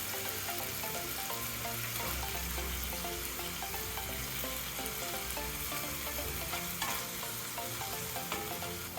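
Beef sizzles and fries steadily in a hot pan seasoned with black pepper and garlic, a dense continuous crackle with faint stirring clinks and a brief scrape near the end.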